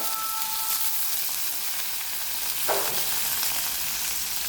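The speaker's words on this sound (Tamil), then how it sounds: "கடுகு நல்லா பொறிஞ்சு வருது" Mustard seeds frying in hot oil for a prawn kurma make a dense, continuous crackling sizzle, loud and close, with no voices over it.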